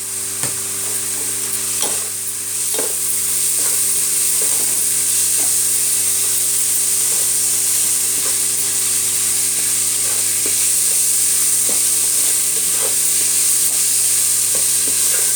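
Potato filling for aloo paratha being stirred with turmeric and salt in a pan, a steady soft frying hiss with a constant low hum and repeated light scraping taps of the spoon.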